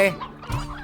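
A hen clucks once loudly at the start in the video game Slime Rancher, then softer clucking and a brief game-like chirp follow, close and clear.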